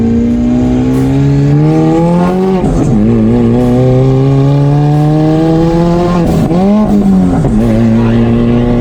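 Inside a Kia Picanto Turbo on the move, the engine note climbs steadily, then dips sharply at two gear changes and climbs again. It is loud, close and continuous, with no talking.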